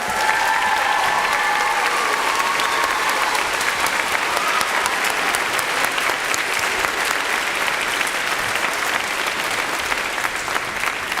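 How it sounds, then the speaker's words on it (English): Concert audience applauding a vocal teacher at a high school fall concert in a Pasadena church, steady dense clapping sustained at full strength throughout. "Give her a round of applause."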